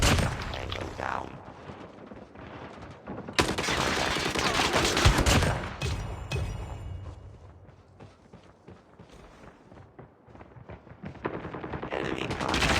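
Shotgun fire from an HS0405 in the mobile shooter Call of Duty: Mobile, loud booming blasts in bursts among game effects and clatter, with a quieter stretch midway before the shots pick up again.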